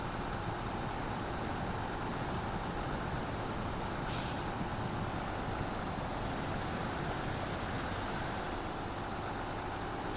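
A Voron AE 4380 T truck hauling a large trailer through mud in SnowRunner, its engine a steady, loud, broadband drone with one brief hiss partway through.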